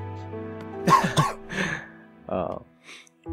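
A cartoon ghost character coughs several times in short bursts, loud and close, with brief gaps between them.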